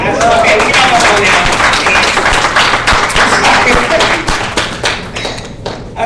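A panel-discussion audience claps loudly and steadily for a speaker, a dense run of overlapping hand claps that thins slightly toward the end.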